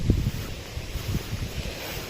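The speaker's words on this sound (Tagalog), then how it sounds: "Sugkadug hangin." Strong typhoon wind gusting into the microphone outdoors, producing low buffeting rumbles and a steady broadband roar over about two seconds, with no talk.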